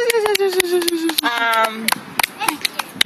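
Hands clap in a quick, steady rhythm, a dozen or so sharp claps, close and loud, outdoors in a park, while a voice sings along over them.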